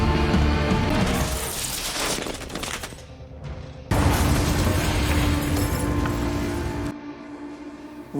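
Boats packed with explosives blow up in a film scene: a loud, roaring blast, then a second surge of booming and crackling, trailing off into a lower rumble.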